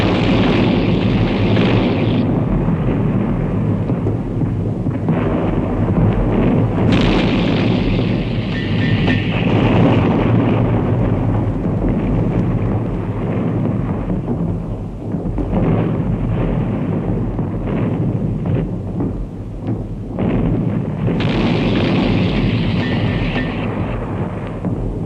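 World War I artillery bombardment pounding Italian trenches, dugouts and shelters: a dense, loud, unbroken roar of heavy explosions and deep rumbling, with sharper blasts flaring near the start, around seven seconds and again past twenty seconds, and no voices.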